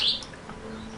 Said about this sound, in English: I'm sorry about the birds, man, if they're making a lot of noise.